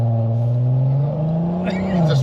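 An Audi TT 3.2 with a DSG gearbox pulls hard, its engine droning steadily and rising in pitch as it accelerates up close, with a brief gear change near the end.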